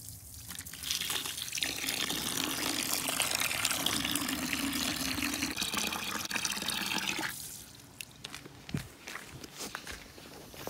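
Water pours steadily over Seachem Flourite Black aquarium sand being rinsed, a dense rushing wash that cuts off after several seconds, leaving scattered handling clatter.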